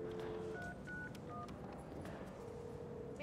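A telephone is dialed with a quick series of distinct touch-tone beeps of different pitches, faint against a steady background hum.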